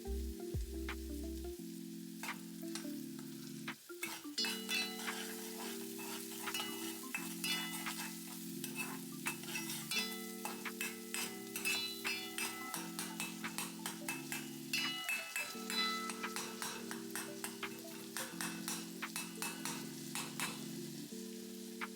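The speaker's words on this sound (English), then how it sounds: "this process, it should take you about maybe 3 minutes or so to fry up the garlic" Garlic frying in a pan for crispy garlic rice gives a steady soft sizzle with frequent light stirring clinks and scrapes throughout, fairly quiet and without talk.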